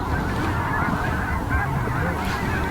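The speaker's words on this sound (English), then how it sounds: "That goose is seriously just sitting there." A goose honks steadily and fairly close over constant outdoor background noise during a waterfowl hunt, with no talking.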